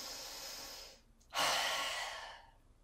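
During a yoga twist, a person takes a slow audible breath in, pauses briefly, then lets out a longer, breathy exhale close to the mic. The room is otherwise quiet.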